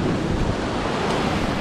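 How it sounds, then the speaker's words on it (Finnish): Sea waves crashing against a rocky shore on the Albanian coast, a loud continuous roaring wash of surf mixed with gusty wind buffeting the microphone, with no talk. "Kato mitä toi aalto hakkaa tätä kalliolaista."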